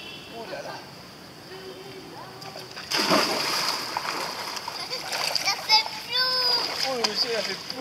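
A splash as someone drops into water at a pool or swimming spot in Vietnam, with a broadband burst near the middle, followed by children's voices and excited chatter over lively background noise.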